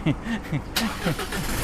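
A 1.9-litre Isuzu pickup, a 2022 model, cranks and starts with a sudden noisy catch into a running engine, after a voice talks over the opening moments.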